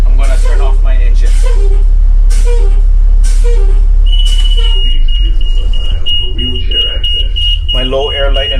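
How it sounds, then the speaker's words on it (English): Truck low air pressure warning buzzer sounding as a steady high-pitched tone inside a cab with the engine idling and then shut off, while someone talks over it. "My low air light and buzzer has activated."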